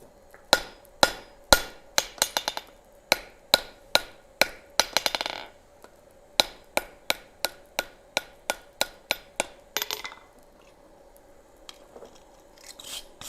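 Blacksmith's hammer striking hot metal on an anvil during forging, with a steady run of loud, ringing blows, a short pause, then a second run of strikes, followed by softer scraping and a few faint clinks near the end, with no talk.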